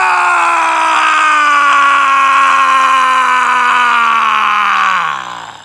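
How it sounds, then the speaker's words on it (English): Black Doom, voiced by Kirk Thornton in Sonic X Shadow Generations, lets out a long, loud, rasping scream that holds strong for about five seconds, slowly sinks in pitch and then trails off. "we get an insane scream by Kirk Thornton"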